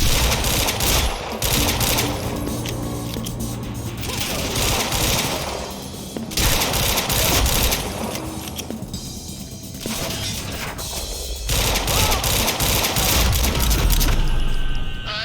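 Gunfire in the game Quantum Break, dense bursts of rapid automatic shots and crashing impacts, loud and close, continuing in long volleys with brief pauses.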